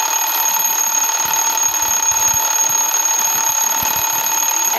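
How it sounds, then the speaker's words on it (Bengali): A timer alarm rings continuously at a steady, loud, high pitch, alone and without talk, after an eight-hour wait while making mishti doi, the sweet yogurt, in a clay pot. "অ্যালার্ম তো বেজে গেল।"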